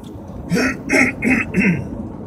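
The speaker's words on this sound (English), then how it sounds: "Reason I'm clearing my throat this morning" Four rhythmic throat clearings in a row, close and fairly loud, evenly spaced with no talking.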